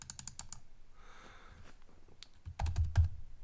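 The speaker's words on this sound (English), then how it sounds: "let me type the word" Short bursts of typing on a computer keyboard while entering a word, close, crisp key taps in quick clusters with a brief pause in the middle and a few heavier taps at the end.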